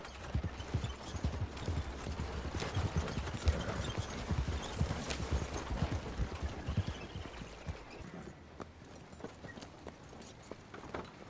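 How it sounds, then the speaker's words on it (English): A horse-drawn wagon in Red Dead Redemption 2 rolls along with steady clip-clopping hooves and low rumbling wheels, moderately close, easing off toward the end. "Stop the wagon just ahead."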